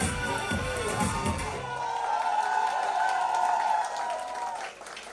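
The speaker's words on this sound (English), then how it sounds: "Big round of applause" An audience at a television show promo launch applauds and cheers with a few whoops, a broad wash of clapping and crowd noise that swells and then fades out near the end.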